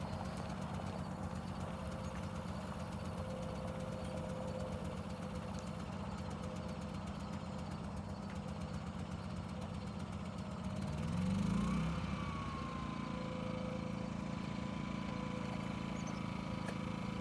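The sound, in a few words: generator engine running on choke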